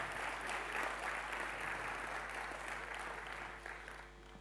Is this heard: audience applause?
yes